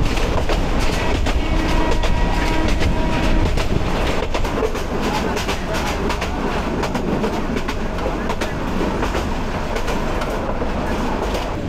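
Riding inside a moving train on the Mymensingh–Dewanganj line, a continuous loud rumble with rhythmic clickety-clack of wheels over rail joints, steady throughout, with faint voices in the carriage.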